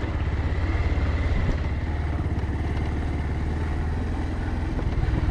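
Scooter with small wheels running over a rocky road full of large stones, a steady close engine drone with a fast, even pulse and faint rattling.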